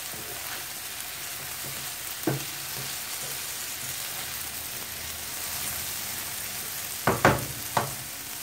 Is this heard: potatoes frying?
yes